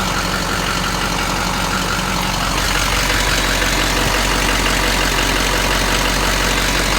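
A truck engine idles steadily while warming up, a loud, continuous low rumble that runs unbroken from start to finish with no voices over it.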